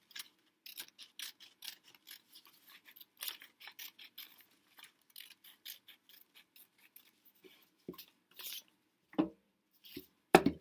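Pink paper being cut out with scissors for Valentine's decor: quiet, close, irregular snips and crisp paper rustles in short bursts, with a few louder snaps toward the end.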